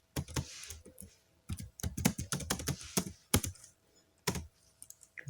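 Quick bursts of keystrokes on a computer keyboard as a name is entered, close and clear, arriving in short irregular clusters separated by brief pauses, with no voices present.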